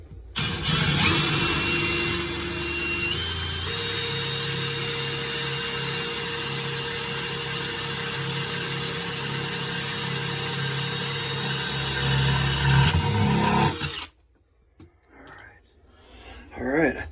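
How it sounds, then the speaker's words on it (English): A power drill drives screws into a toilet floor flange on the subfloor, a steady loud whir held for about fourteen seconds, then a few faint knocks and handling noises. "screwing down the flange to the subfloor."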